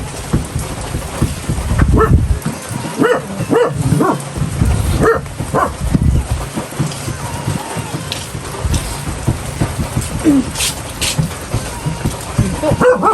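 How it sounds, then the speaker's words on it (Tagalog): A dog barks repeatedly in a busy, noisy setting at a fishpond, with scattered barks and yips over steady background noise. "Sino tinatahol ng aso?"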